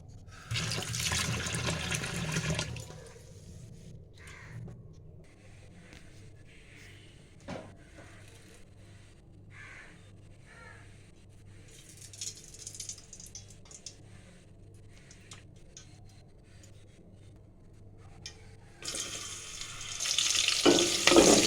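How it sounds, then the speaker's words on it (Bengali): Mung and masoor lentils rinsed under a running kitchen tap: steady water flow with louder gushing at the start and end, softer trickling and light splashing in between, no talk. "এখানে আমি ডালটাকেও ধুয়ে নিচ্ছি দুই রকমের ডাল আছে মুগ আর মসুর"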